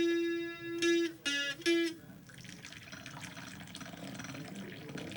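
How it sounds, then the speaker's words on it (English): Tea is poured from a pot into a cup at a tea party: after a few brief tonal notes, a soft, steady liquid trickle runs quietly for several seconds. "Let me pour some in your cup and you decide."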